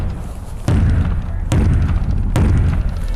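Three loud, sharp knocks on an all-steel race car trailer at about 0.7, 1.5 and 2.3 seconds, each a solid close thud with a short ring over steady background noise.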